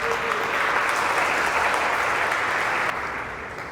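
A church congregation claps for Jesus in a dense, loud, steady round of applause that carries on evenly, then drops slightly in level near the end.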